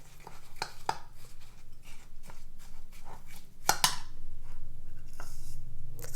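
Crushed cookies being stirred into melted butter in a bowl for a pie crust, giving repeated scraping and clinking strokes of a utensil against the dish, close and fairly loud, with a few sharper knocks.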